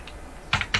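Numbers are typed into an Excel sheet on a computer keyboard: after a faint tap, a quick burst of three close, crisp key clicks, with no speech.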